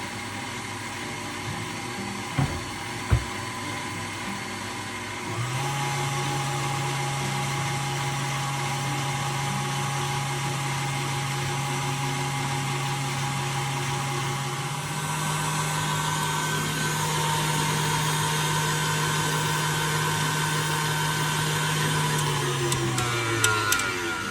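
An electric mixer whips cream for a tres leches cake, a steady close whirring drone that shifts speed partway through and runs continuously with no talk.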